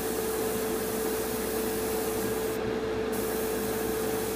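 Steady, close rubbing and scraping as paint is worked off a Revell Colonial Viper Mk.II model kit over a hairspray layer to distress it, a continuous abrasive hiss with a faint steady hum beneath.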